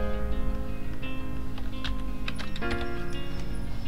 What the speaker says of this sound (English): So I'm just going to type start XAMPP.